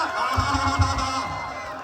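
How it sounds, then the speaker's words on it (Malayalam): A crowd at a heavyweight tug-of-war contest in Kerala shouts and cheers in a short, noisy burst, voices rising together and pulsing for under two seconds. "നല്ലൊരു കൈയടി കൊടുക്കാം."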